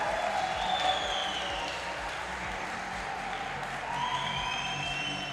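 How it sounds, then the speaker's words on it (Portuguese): Audience applause at a talk on intrapreneurship and female leadership as Raquel, director of Local Web, is called back to the stage: a steady wash of clapping from a crowd, fairly distant and sustained, with faint voices beneath. "Salva de palmas, minha gente."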